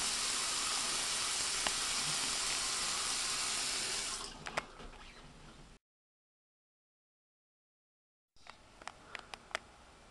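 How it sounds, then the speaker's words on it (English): Bathroom tap running steadily into a sink while teeth are brushed, a constant splashing rush that stops after about four seconds, followed by silence and then a few faint clicks and knocks. "If we stop the running water each time we brush teeth,"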